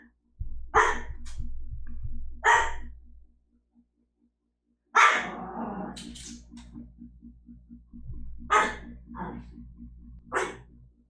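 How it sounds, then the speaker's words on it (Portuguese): A dog barks in short, sharp bursts, about five or six times spread irregularly over several seconds, fairly close and loud, with a low steady hum in the background. "Eu já sabia que tu ia latir"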